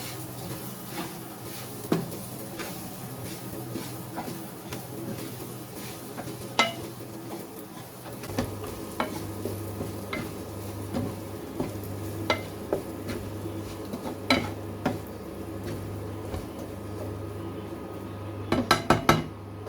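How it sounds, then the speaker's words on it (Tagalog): Pork fried rice is stirred in a pan, with repeated scraping and clinking of a utensil against the metal over a steady low sizzle and hum, close and continuous, and no talking. "Yan, haluin ulit natin."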